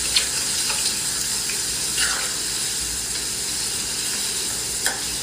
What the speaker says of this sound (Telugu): గార్లిక్ పేస్ట్ నేను హాఫ్ గార్లిక్ పేస్టే ఇందులో వేస్తున్న ఆయిల్లో గార్లిక్ పేస్ట్ బాగా ఫ్రై అవ్వాలి